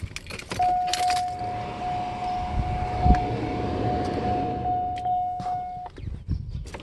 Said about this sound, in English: we're going to put on the ignition to listen for throttle body activation and learning curve